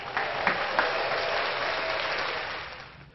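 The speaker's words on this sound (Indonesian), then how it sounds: "Orang sambut dengan tepuk tangan yang sangat meriah." An audience claps for a stand-up comedy segment, steady applause from a crowd that holds for about three seconds and fades at the end.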